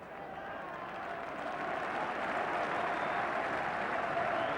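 A rugby crowd at a 1987 Yorkshire versus Middlesex match cheers and applauds in a steady, broad roar that builds slightly and holds at a distance throughout, with no clear voices on top.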